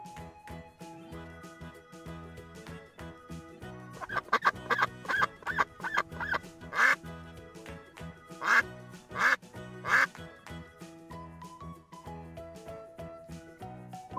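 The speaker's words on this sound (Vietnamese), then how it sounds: "Con vịt, con vịt." A duck quacks in a series of sharp, close calls, some grouped in quick runs, heard over light background music in a children's animal-sounds lesson.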